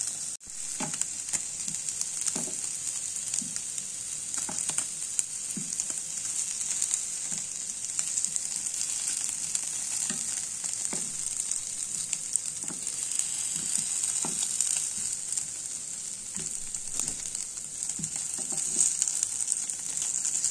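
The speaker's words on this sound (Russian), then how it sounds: "Слышите, как он шкварчит аппетитненько." Zucchini bars sizzle on a hot striped grill pan, a steady close crackling hiss with scattered pops and light scraping of a utensil, continuing without pause and with no voices.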